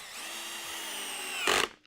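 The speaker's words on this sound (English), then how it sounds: "then we'll start drilling for the 8mm dowels" A power drill bores into wood for 8mm dowels, a steady high whine that rises into a louder grinding burst near the end before cutting off abruptly.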